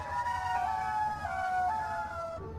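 A wailing siren rises and falls in long sweeping tones, loud and continuous over a low rumbling backdrop, from the Siren Head creature in a horror video game.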